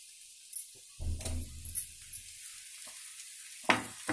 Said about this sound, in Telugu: టమాటాని ఇలా వేయించుదాము.